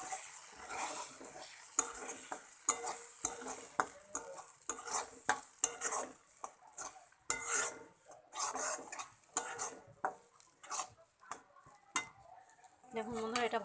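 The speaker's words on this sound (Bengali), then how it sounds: "এটা নেড়ে চেড়ে ভালো করে ভেজে নেব।" Green peas fry in oil with a little sugar in a wok while a spatula stirs and scrapes them, making rhythmic rasping strokes over a soft sizzle and continuing steadily with no talking.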